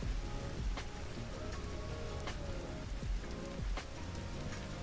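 Rain falls steadily in the Vintage Story game world, a constant close hiss of drops with a few louder splashes standing out now and then, alone without any voices.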